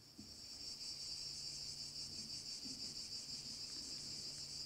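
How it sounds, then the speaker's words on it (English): Cicadas shrill outdoors in a steady, unbroken chorus that holds for the whole stretch, with a dense high buzz and faint pulsing in its rhythm. "So in this case, it's the cicadas."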